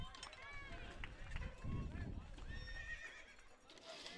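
A horse neigh sound effect plays over the public address at a high school baseball game in the rain, a loud whinny with a clip-clop gallop, heard alongside commentators talking.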